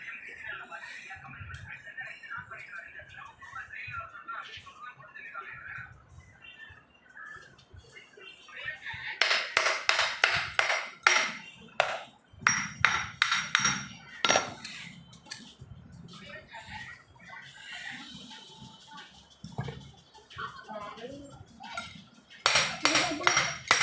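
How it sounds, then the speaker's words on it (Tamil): A metal tool taps repeatedly against a motor pump during a home bearing and oil seal replacement, giving sharp clanking metallic knocks in bursts, loud and close, with quieter pauses between. "பம்பை தட்டி கரெக்டாக"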